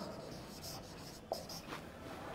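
Faint rubbing scratches of writing on a board in a classroom, soft continuous strokes against a quiet room hum.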